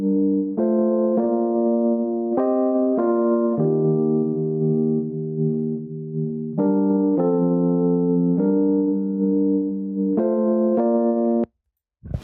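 A rearranged MIDI melody for a produced beat, the track made by Kenyan producers, plays a clear stepwise sequence of sustained synth notes in a steady rhythm, loud and close, with no talk, stopping abruptly just before the end.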